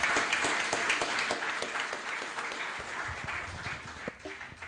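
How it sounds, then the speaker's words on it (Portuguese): Applause at a book launch in a municipal council chamber, a dense continuous wash of clapping from an audience that stays steady and fairly loud, then thins slightly toward the end. "1000 aplausos para vocês todos"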